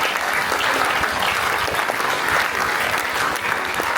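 An audience claps loudly and continuously, a dense, even wash of applause that holds at the same level the whole time.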